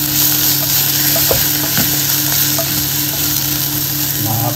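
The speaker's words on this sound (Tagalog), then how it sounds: "Haluin na po natin." Garlic, onion and sugar caramelizing in a pan while being stirred, giving a loud continuous sizzle with scattered clicks of the spoon against the pan and a steady background hum, no speech.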